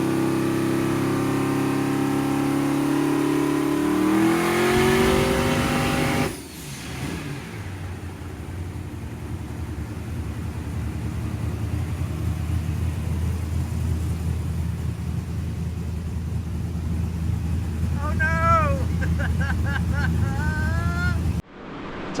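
Big block twin-turbo engine in a bus opened to full throttle, a loud droning roar that climbs steadily in pitch before cutting off sharply, followed by a lower sustained rumble and brief chirping whistles near the end.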